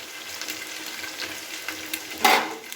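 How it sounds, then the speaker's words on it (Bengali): Onions and chillies fry in fish oil while being stirred in a pan, a soft continuous sizzle with light scraping and a brief louder stir near the end, close and alone. "এবার পেঁয়াজ লঙ্কাটাকেও এর সাথে একটু নাড়াচাড়া করে নিচ্ছি"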